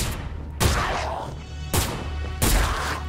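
Heavy gunfire erupts in the sci-fi shooter Ripout aboard a ship, three loud bursts of shots at roughly even intervals, each decaying into a reverberant rumble with no talking.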